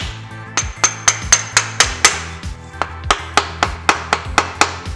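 Repeated sharp hammer taps ring out during reassembly of a VQ35DE engine's bottom end bearings and girdle, about a dozen crisp metallic strikes in a steady rhythm, close and fairly loud.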